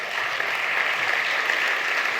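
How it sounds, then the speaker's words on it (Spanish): Congregation applauding at a Spanish-language church service, a steady, dense wash of clapping that holds at an even level throughout with no break. "Dale un aplauso al Rey."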